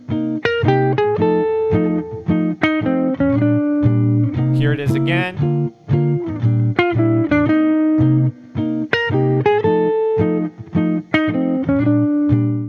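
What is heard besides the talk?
jazz guitar playing enclosures over a ii V I progression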